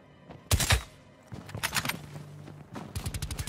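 Bursts of gunfire in Call of Duty: Black Ops Cold War: a loud double blast, then rapid rattling volleys of automatic fire, close and sharp, with no talking.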